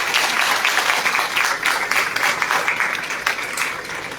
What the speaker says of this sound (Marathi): त्यामुळे या मंचासाठी एकदा जोरदार टाळ्या वाजवा.